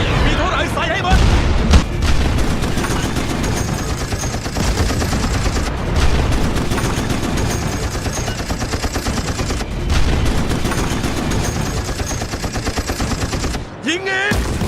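Battleship guns fire in World of Warships as loud, heavy booms over a continuous rumble of naval combat. Game voice lines and effects run beneath the shots.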